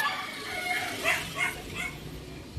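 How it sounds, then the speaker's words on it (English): Dogs barking and yipping outdoors on a morning walk in a Philippine residential subdivision, with short bursts rising over steady street noise while someone talks. "That's his dogs."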